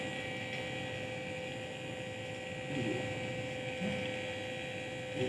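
A vacuum pump runs while evacuating the hoses of a Daikin air conditioner, giving a loud, steady, continuous droning hum close by without pauses or speech.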